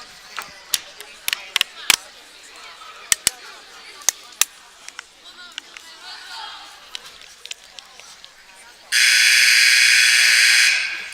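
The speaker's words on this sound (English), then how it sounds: "First timeout buzzer." Sharp percussive thuds and squeaks echo through a gym during an 8th grade girls basketball game, then a loud, harsh timeout buzzer blares steadily for about two seconds near the end.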